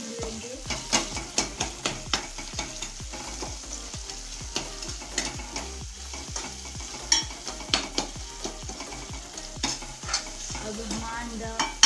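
Masala for Indian egg chutney frying in a pan, with a spatula scraping and stirring in repeated close knocks over a steady sizzle, and nobody speaking.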